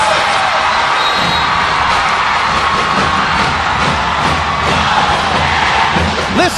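A packed volleyball arena crowd roars and cheers continuously, loud and dense, with yells and whoops rising above the sustained din.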